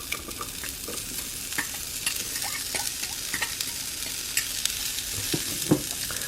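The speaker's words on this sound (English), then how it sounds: "I want to cook up the onions and the peppers. So I'm going to add those to the griddle." Onions and peppers cook on a Dash mini griddle, giving a soft continuous sizzle with light scraping and tapping of a utensil stirring them, close and fairly quiet, with no voices.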